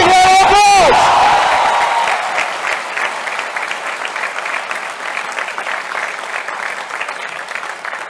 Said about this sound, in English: So I think you should give a big round of applause.